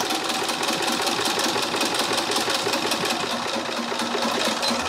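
A sewing machine runs continuously, stitching fabric right up to the piping, its fast, even mechanical whir and clatter loud and close throughout with no talk.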